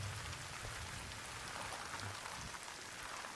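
Steady rain from the video game Death Stranding falls across the whole stretch, a dense, even hiss of drops on surfaces with low rumble beneath, alone and moderately loud.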